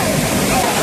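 Waterfall at Mount Isarog Natural Park, a loud, close, continuous rushing roar of falling water that fills the whole moment.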